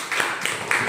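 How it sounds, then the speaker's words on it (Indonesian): A classroom of students claps after a group's reading, a brief burst of scattered hand claps in a roomy space, lasting about a second. "Tepuk tangannya."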